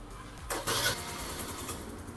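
A Suzuki Let's 4 fuel-injected scooter engine with a stock exhaust catches and starts with a quick burst, then settles into a steady idle, close by, with no voices.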